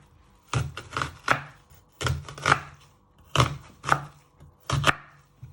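A kitchen knife slices through a peeled onion on a board, five distinct crisp chopping strokes in pairs, close and fairly loud with short pauses between.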